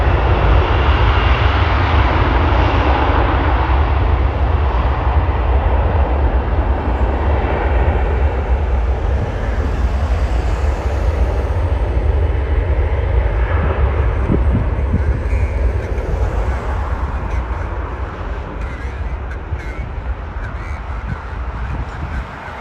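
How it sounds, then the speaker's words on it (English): Airbus A321 jet bound for Punta Cana taxiing and taking off at Toronto airport, a loud, continuous roaring engine rumble heard outdoors that stays strong throughout and eases slightly toward the end. "Air Transit going to Punta Cana, Dominican Republic, Airbus 321. And he is turning and burning."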